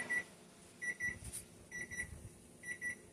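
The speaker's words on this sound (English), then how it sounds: "I'll wait till the timer goes off at least before I do that" A kitchen timer goes off while sausage pieces cook for breakfast, sounding repeated pairs of short, high electronic beeps in a steady pattern, fairly quiet against faint kitchen background.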